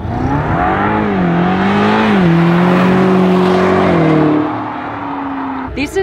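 Brabus-tuned Mercedes E63S sedan with over 700 horsepower accelerating hard, its loud engine note rising steadily through the gears for about four seconds before easing off, then a brief clatter at the end.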